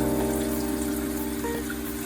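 Leftover water poured out of a bowl while cooking Japanese chashu: a steady, close pour runs unbroken for about two seconds with no voices over it.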